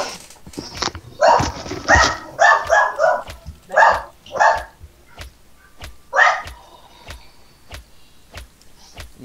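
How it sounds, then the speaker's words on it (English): A dog barks in quick bursts of loud, close yips and barks, then falls quiet with only faint clicks and knocks around it. "Sorry about the dog."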